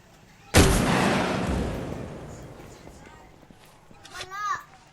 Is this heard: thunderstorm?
no